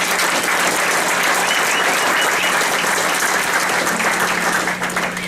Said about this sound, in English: So I'd like to just give a round of applause to those people.